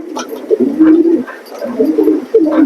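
Pigeons in a pigeon loft coo close by in a few soft, throaty, rolling calls, with faint chirps in between.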